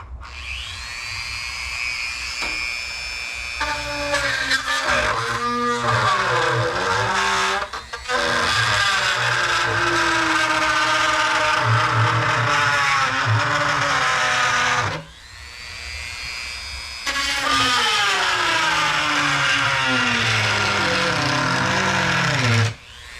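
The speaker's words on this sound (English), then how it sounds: "So to cut this out, this is what I'm using, a Dremel." A Dremel rotary tool with a cutting bit plunges into and cuts around a plastic bucket, a loud high-pitched whine that drops and bogs under load in two long passes, with a brief pause between them.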